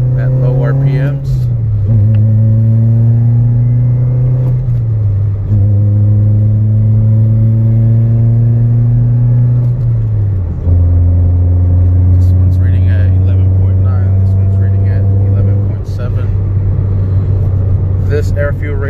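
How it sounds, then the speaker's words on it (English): A tuned car's engine making wide open throttle pulls from low RPM: loud, close engine drone rising steadily in pitch through each gear, with brief drops at the shifts and a final long pull, no voices. "he wants wide open throttle pulls at low RPMs"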